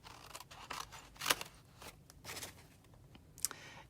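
Scissors cut through card paper while a sympathy card is being made, with several crisp, close snips spread across the quiet, including two sharper cuts.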